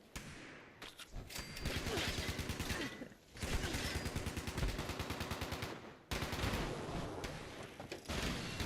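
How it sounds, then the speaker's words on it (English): Rapid sustained bursts from a Gatling laser in Fallout 76, three long streams of fast, even pulses separated by short gaps, loud and close. "Is that the Gatling laser?"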